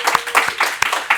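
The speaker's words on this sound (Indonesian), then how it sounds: "Tepuk tangan buat support." Studio audience applauding during a talk show about stock trading, a short burst of steady, fairly close clapping with no voices over it.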